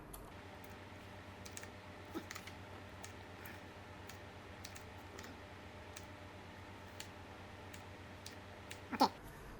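Computer keyboard keys tapped in short sparse bursts as an identity card number is entered, quiet clicks over a steady low hum with a slightly louder cluster near the end.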